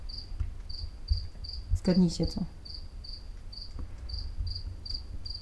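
Crickets chirp outdoors on a terrace in an evenly spaced, moderately loud pulse, with one short spoken remark briefly cutting in over them.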